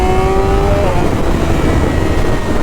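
A BMW S1000RR motorcycle rolls on the throttle in sixth gear from around 4,000 rpm after an ECU unlock, a loud steady engine drone with a rising pitch, mixed with wind roar on the ride.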